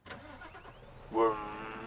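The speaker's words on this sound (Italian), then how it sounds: "accendiamo i motori" A Scania truck engine in Euro Truck Simulator 2 cranks briefly and then catches, settling into a steady mid-pitched idle after a short, loud burst.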